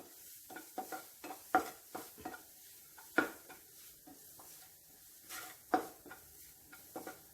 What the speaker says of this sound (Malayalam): നല്ലതുപോലെ ഒന്ന് മിക്സ് ചെയ്ത് കൊടുക്കാം